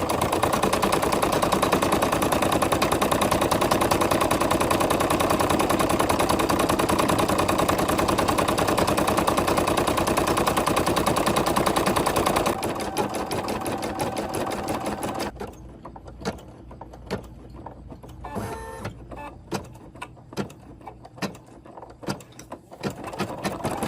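An embroidery machine stitches a design in a jumbo hoop with a loud, fast, steady mechanical chatter for about twelve seconds, then softens and gives way to sparse clicks and taps as it slows and stops.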